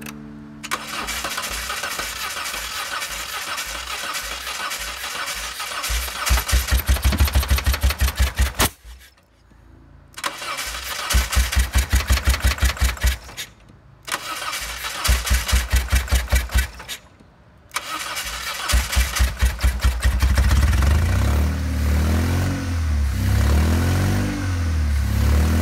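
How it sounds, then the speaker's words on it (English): Saturn car engine running with some cylinders deactivated, cranking and starting in several loud bursts separated by brief silences, then settling into a rough, uneven idle that fills the rest of the time. "Right away, I can detect the engine's a little bit sluggish, but it's running."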